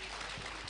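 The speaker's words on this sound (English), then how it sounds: "Please, another round of applause for him." Audience applause in a university hall during an ICT day event, a dense steady wash of clapping heard briefly and fairly close, with no break.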